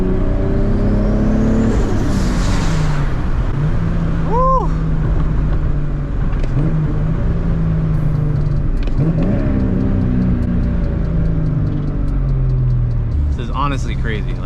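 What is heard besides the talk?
JZ-engined Nismo car accelerating under turbo boost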